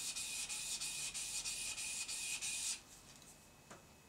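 A chisel is rubbed back and forth on a 1,000-grit waterstone with a slurry on it. The strokes sound as fast, even, rasping scrapes that stop abruptly, followed by a single faint scrape, with no voices.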